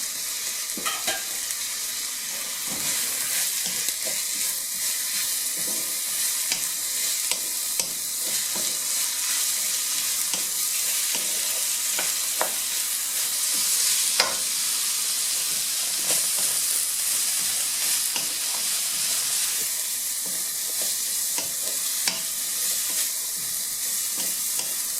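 Noodles and vegetables stir-fry in hot oil for fried rice noodles, a loud continuous sizzle and hiss with scattered scraping and tossing clicks throughout, no voices.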